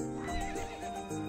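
A horse neighs and whinnies in the video game To the Moon during a horseback riding scene, one loud drawn-out call with faint hoof clip-clop beneath.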